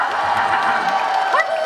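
Concert audience at a Korean filial-piety festival in Kure cheering and applauding for a trot singer, a dense wash of shouts, whoops and clapping filling the hall throughout.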